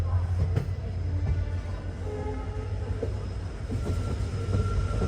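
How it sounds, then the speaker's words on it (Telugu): The Jammu Tavi Express pulls out of Jodhpur station with a steady low rumble of rolling stock and faint clanks, holding at even loudness throughout and with no voices over it. "మన ట్రైన్ బయలుదేరిపోద్ది ఇప్పుడు."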